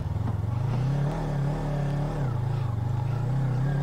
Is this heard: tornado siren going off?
no